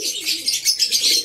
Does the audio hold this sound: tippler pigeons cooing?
yes